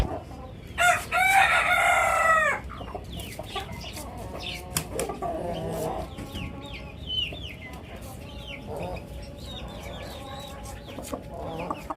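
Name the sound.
rooster crowing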